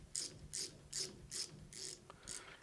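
A ratchet tightens a MAC extractor socket onto a stud in six evenly spaced bursts of close, quiet clicking.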